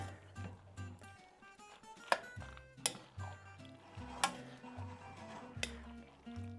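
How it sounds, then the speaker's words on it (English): A pound of noodles being stirred in a pot with sausage and broccoli: irregular metallic clinks and scrapes of a utensil against the pot over a low background sizzle and hum, fairly quiet with sharper knocks every second or so. "So this is a pound of noodles that is going in here. I'm going to stir that all in."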